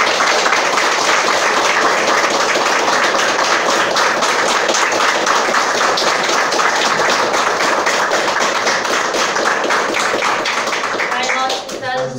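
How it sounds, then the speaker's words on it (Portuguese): Steady, dense clapping from a gathered group saluting their ancestors at a spiritual gathering, sustained and even for the whole stretch before tapering off at the end. "Uma salva de palmas para os nossos antepassados"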